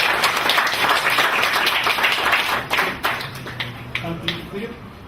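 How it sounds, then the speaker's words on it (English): Audience applause after a presentation at a public dialogue on conservation, dense steady clapping that thins out and fades with some talk underneath. "Please give him another clap."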